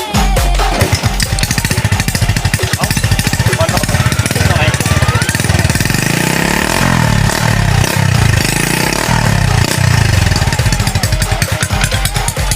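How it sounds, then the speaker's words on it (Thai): A motorcycle with a modified exhaust idles loudly up close in a rapid, choppy pulse, then revs up and drops back partway through before settling into the rough idle again. "เราฟังเสียงเดินเบาก่อนนะครับ"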